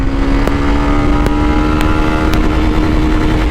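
A Yamaha FZ25 or Bajaj Pulsar N250 motorcycle engine drones loud and close, pulling hard through the gears with brief shift breaks and rising revs under steady wind and road noise.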